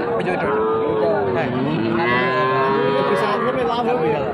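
A cow moos loudly and close by in a long, drawn-out low call at a cattle market, with fainter lowing from other cattle, young bulls and heifer calves, in the background.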